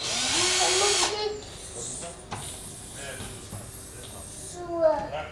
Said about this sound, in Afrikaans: My liefie, lees waar moet jy die gaatjies boor?